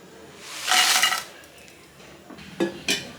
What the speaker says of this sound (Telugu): ముందు ఒక ప్యాన్ పెట్టుకొని ఇందులో ఎండుమిర్చి వేసుకుంటున్నాను.